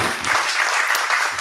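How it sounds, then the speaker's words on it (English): A brief burst of audience applause at a tech conference, a dense wash of clapping that is fairly loud and steady over a second or so. "let's give them a round of applause"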